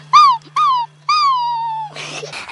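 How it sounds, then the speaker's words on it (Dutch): A frightened dog gives three whining howls, two short and then one long drawn-out wail that falls in pitch, loud and close, followed by a brief rustling noise. "Opeens klonk een langgerekt gejank."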